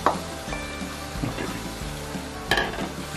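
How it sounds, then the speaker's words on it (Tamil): Grated coconut frying in hot oil with soybean chunks in a vegan stir fry, a close, busy sizzle and crackle with scattered spatula scrapes and a sharper clack partway through, no voices. "நான் இப்போ தேங்காயும் போடும் தேங்காயும் கொஞ்சம் வதங்கட்டும்"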